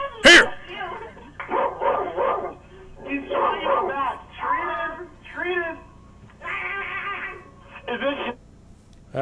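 A dog barks over a phone line in a comedy show, giving thin, band-limited yips and woofs in irregular bursts mixed with talk, and a person imitates the barking.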